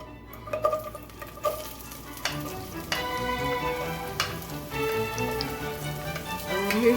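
Onions hitting melted coconut oil in a pan give a steady sizzle, with a few sharp clatters and knocks of utensils near the start. Frying noise builds and holds, close and moderately loud, and nobody speaks.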